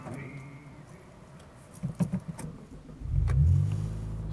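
A Mitsubishi GTO twin-turbo cranks and starts on the button, a brief starter whirr and a few clicks giving way to a loud, close, beefy idle rumble from its exhaust.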